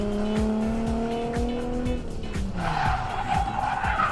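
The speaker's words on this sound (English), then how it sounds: "Big old burnouts." Drag racing car doing a big burnout at Santa Pod Raceway during Ultimate Street Car, tires squealing loudly over a steady roaring engine, with the pitch sweeping down midway and a harsher shriek building toward the end.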